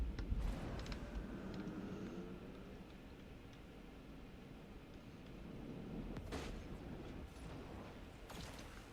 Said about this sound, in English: they just keep firing torpedoes